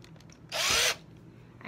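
A power drill fitted with a 3/32 drill bit runs in a single short burst of about half a second, loud and close, with quiet room tone before and after.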